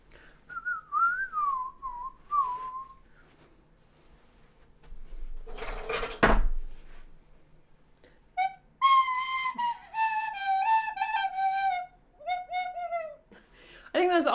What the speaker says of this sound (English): Oh, the tin whistle.